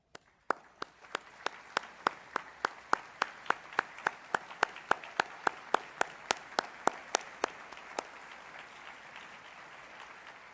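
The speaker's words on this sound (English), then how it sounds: "let's give them a round of applause" Applause at a freshman awards ceremony, with one loud, sharp clap repeating in a steady rhythm over softer clapping from the crowd, then tapering off.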